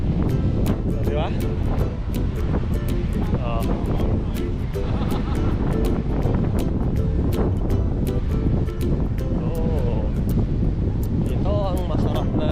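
Strong seaside wind buffets the microphone in a continuous loud roar with surf-like rumble, while people talk intermittently over it.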